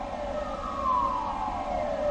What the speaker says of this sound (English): So if you hear the sirens, obviously in the background, they're releasing water from the dam